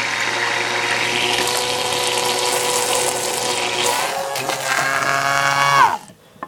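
A powerful homemade water pump runs with a steady motor whine and rushing water, loud and close. It holds evenly for about six seconds, then cuts off abruptly and winds down.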